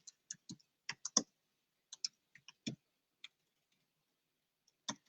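Keystrokes on a computer keyboard while contract details are entered into Service Autopilot billing software: sparse, irregular clicks in small clusters with gaps between them, close and fairly quiet, with no talking.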